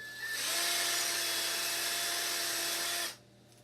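A small power drill whines at a steady high pitch for about three seconds while boring a hole for homemade nunchucks, then spins down and stops.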